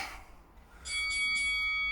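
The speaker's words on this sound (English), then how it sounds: "just turn the timer off" An electronic timer alarm rings during a strength exercise, sounding as a run of bright repeated beeps that start after a brief quiet moment and continue to the end, with faint strained breathing before it.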